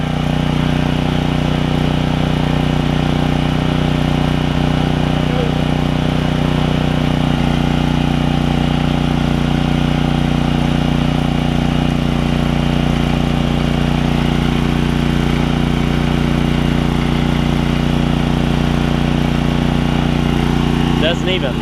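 A Generac generator with a Briggs Vanguard engine, its carburetor and gas tank freshly cleaned, runs loud and steady with a constant droning hum close by, with no change in load for the whole stretch.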